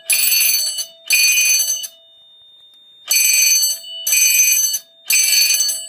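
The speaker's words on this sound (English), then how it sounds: "I can hardly hear the commander over the bell." A loud electronic fire alarm rings in repeated bursts of about a second each, with brief gaps and one longer pause between them.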